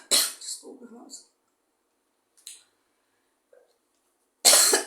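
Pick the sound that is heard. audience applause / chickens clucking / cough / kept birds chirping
cough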